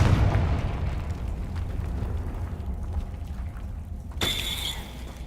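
A Confringo spell explosion in the game Hogwarts Legacy hits as a loud, deep rumbling boom that fades slowly, followed near the end by a bright crackling burst with a shimmering tone.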